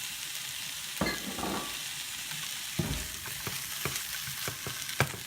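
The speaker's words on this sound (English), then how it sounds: "we'll continue to just stir fry that a little bit" Sliced button mushrooms stir-fry in a hot pan, a steady bright sizzle broken by several sharp scrapes and knocks of the utensil against the pan.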